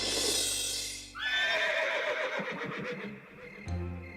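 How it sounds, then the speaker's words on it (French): A horse gives a loud, drawn-out whinny in a meadow, rising then trailing off in shaky waves, followed by a softer snort, heard close and clear with no talk. "c'était un hennissement qui devait venir de la prairie"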